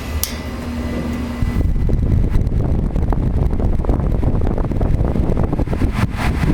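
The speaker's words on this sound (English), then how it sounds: "I'll turn it on for you guys. It's actually quite powerful." A small vintage metal Frigid single-speed electric fan with a scratchy switch starts up after a faint hum, then runs with a loud, close, steady rushing whir and buffeting air against the microphone, with no talking.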